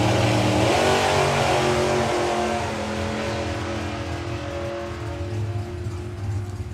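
A drag racing car at a European drag racing finals screams off the line with a loud, sustained engine roar that steadily shifts pitch and slowly fades as it pulls away.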